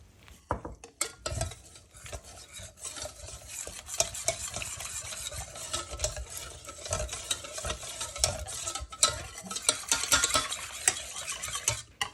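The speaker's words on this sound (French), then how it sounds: "je mélange avec un fouet manuel pour commencer à bien délayer la fécule" Hand whisk mixing starch into milk in a bowl, rapid uneven scratchy whisking strokes with light clinks against the bowl, close and continuous for the whole stretch, no talking.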